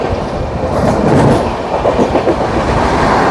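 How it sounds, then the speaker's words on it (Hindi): A train rolls in on the line past a station platform in India, loud and close, with a steady rumbling roar and rhythmic wheel clatter over the rails and no speech. "एक और ट्रेन आ रही है, एक और ट्रेन आ रही है भाई"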